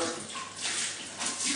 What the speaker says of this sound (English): I take some hot water and I soak this with hot water